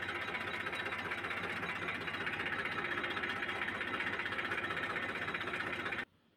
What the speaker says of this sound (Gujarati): પહેલી વખત ટ્રેક્ટર ચલાવ્યું ધીમે ધીમે ધીમે જવા દીધી